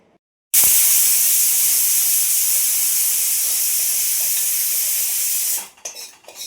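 A pressure cooker cooking dal and rice lets out a loud, steady hiss of steam. It starts abruptly, holds for about five seconds close by, then cuts off into quieter clatter.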